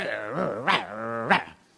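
A voice imitates a dog, with harmonic growling rising into two sharp bark-like bursts, close and fairly loud, during a Spanish-language sermon.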